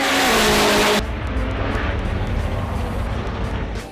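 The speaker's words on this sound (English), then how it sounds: "hear the roar of the engines" Drag racing motorbike engines roaring in a loud, dense blast that cuts off abruptly into a continuous rumbling engine drone with broad noise, no voices.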